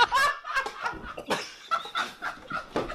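Chickens clucking up close, a busy run of sharp, uneven squawks and clucks bunched together with short gaps between them.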